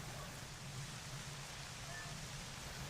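Steady rain in Twilight Princess, a soft, even hiss of falling water that holds at a constant moderate level throughout, with no talk over it.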